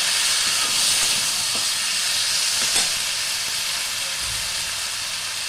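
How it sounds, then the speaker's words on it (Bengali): Spice paste with cumin powder sizzling and frying steadily in a pan for an elephant-foot yam and potato curry, a continuous loud hiss with faint stirring scrapes and no talk. "মশলাটা এবার আমি ভালো করে কষাতে থাকবো।"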